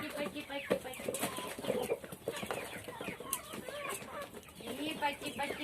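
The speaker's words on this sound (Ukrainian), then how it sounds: "О, і курчата появилися." Chickens cluck in a busy, continuous chorus, with scattered higher peeps mixed in, close by and fairly loud throughout.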